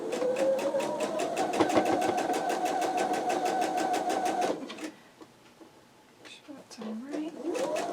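A sewing machine runs fast and steady, stitching quilt block seams with rapid even needle clatter for about four seconds before stopping; speech follows in the quieter stretch afterward.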